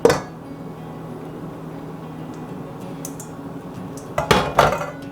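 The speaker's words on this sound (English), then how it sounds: "Now I'm going to add in my dry ingredients" Dry ingredients for zucchini bread go into a mixing bowl, a sharp clatter at the start, then a quiet stretch, then a burst of bowl and utensil clinks toward the end.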